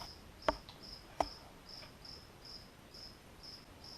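Indoors, a cricket trapped inside a ceiling fan chirps in short, evenly spaced bursts, faint and steady, with two sharp clicks early on.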